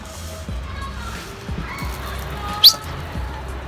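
Pet birds chirping in a small home flock, thin scattered tweets and one sharp call over background murmur, with voices talking nearby.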